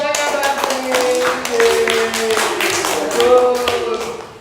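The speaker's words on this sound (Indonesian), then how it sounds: "Tepuk tangan buat mereka berarti." A classroom of students claps together in an uneven, rapid patter while voices sing or chant tones over the clapping.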